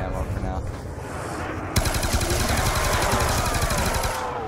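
Rapid automatic gunfire from hip firing in Call of Duty Black Ops 2 Zombies on the Nuketown map, loud and continuous, growing denser after a short lead-in of game sounds.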